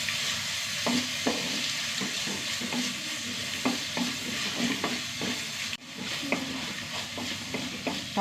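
Tomato sautéing with browned onions in a pan: a continuous low sizzle broken by regular spatula scrapes and taps, close by, with one brief clunk partway through and no speech.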